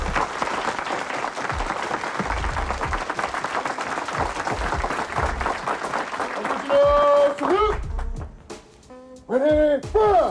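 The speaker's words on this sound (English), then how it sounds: "we want to receive with a rousing round of applause our beloved captain" A crowd at Muhammad's Mosque number 12 in Philadelphia gives a captain sustained, dense applause, with voices and cheers rising over the clapping toward the end.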